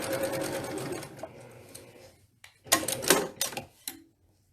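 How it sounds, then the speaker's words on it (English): A sewing machine stitches a quilt seam in rapid, rattling bursts, first a long run and then several short stops and starts, close and fairly quiet. "So now I'm just going to sew my seam allowance."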